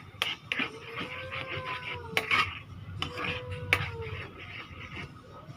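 Pork dish for a spicy butter pork meal stirred in a cooking pot, with scattered clinks and scrapes of a utensil against metal over a low simmering background.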